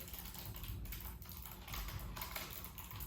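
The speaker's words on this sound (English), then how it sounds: "I have this Logitech mechanical keyboard." Keys clatter in a steady, continuous run of typing on a Logitech mechanical keyboard connected to a gaming computer, quiet and close with no voices.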